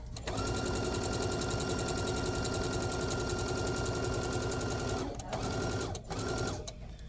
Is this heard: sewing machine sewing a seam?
yes